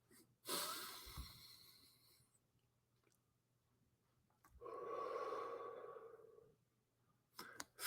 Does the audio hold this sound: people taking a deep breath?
yes